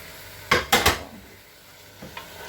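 A spoon clatters in a pot of pork and dumpling soup with baby corn, three quick close knocks followed by a quieter scrape and tap, over a faint simmering hiss.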